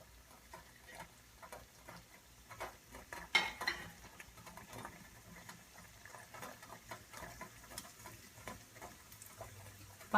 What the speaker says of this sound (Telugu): ఉండలను ఉడికేటప్పుడు ఇలా కలుపుతూ ఉండండి